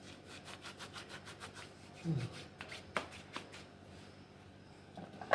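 Dried oregano crushed between the palms over a creamy white pasta sauce, a soft close rustling and rubbing with brief crackles, quiet under faint background talk.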